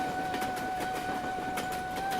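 A passenger train runs steadily on the rails on the Pune to Hyderabad route. There is a constant loud rumble with a sustained tonal hum and faint rhythmic clacks, and no voices.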